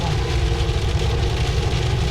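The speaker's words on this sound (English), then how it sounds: "I can't tell if that's tiny hail or tiny sleet" Steady dense pattering of tiny hail or sleet pellets falling near Kalamalka Lake in Vernon, a continuous loud rattle with no pauses and no voices.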